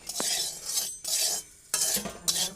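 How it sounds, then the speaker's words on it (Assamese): Salt dry-roasting in a hot wok, oil-free, with bursts of crackling hiss and scraping stirs that come and go in several short waves, close by and moderately loud. "এখন কেৰাহী গৰম কৰি তাত নিমখ দিছোঁ।"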